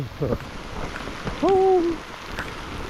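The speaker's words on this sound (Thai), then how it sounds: "ฝนก็ตกมาแล้วทุกคนเอ้ย" Rain falls outdoors over rice fields, a steady soft patter throughout, with a short hooting call rising briefly above it midway.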